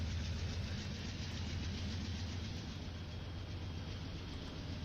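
A train engine in the Minecraft Immersive Trains mod, a video game, starting up and idling as a low, steady rumble with a continuous mechanical drone and no voices.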